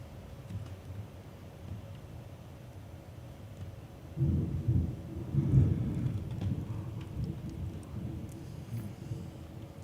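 Low thunder rumbles in the distance from a tornado-warned storm with lightning, swelling to a heavier roll midway, with a soft steady rain hiss underneath.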